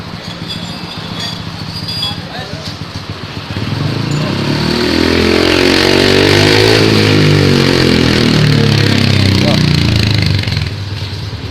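A Honda PCX scooter fitted with a Marker BEM racing exhaust, idling with a raspy burble before revving up into a loud, rising then falling roar close by.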